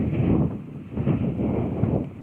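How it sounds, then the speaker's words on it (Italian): Steady wind gusting across open Moroccan desert, a broad rushing roar buffeting the microphone in slow surges, loud and close throughout. "c'è un vento ragazzi che ci spettina"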